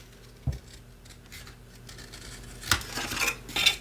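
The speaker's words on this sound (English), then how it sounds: "I'm just going to take our scissors, my scissors here, and I'm just going to make a rounded corner." Scissors snipping a rounded corner on a washi-tape-covered organizer divider insert: one soft snip near the start, then a run of crisp, close metallic cutting clicks toward the end, with no talking.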